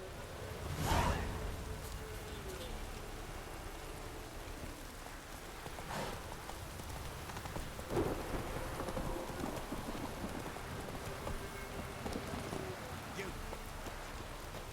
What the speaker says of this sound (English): This downpour's a bastard, it is.